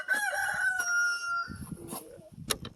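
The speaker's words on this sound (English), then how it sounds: "Oh, baby chickens." Four-week-old chicks calling close by: a run of high, tonal cries at first, then softer chirps and scratchy rustling.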